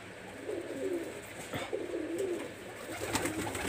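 A newly paired Pakistani highflyer Teddy pigeon, a Salara Teddy kept in Khulna, coos in soft, low, repeated phrases at close range over a quiet background.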